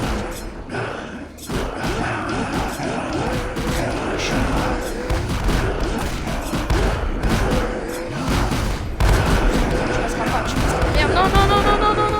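Rapid bursts of gunfire and thumping impacts crackle continuously in a Roblox zombie game, with a voice talking over the chaotic shooting.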